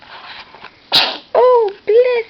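A 10-day-old baby boy gives a sharp little sneeze, then lets out two short whimpering cries, with soft background noise before it.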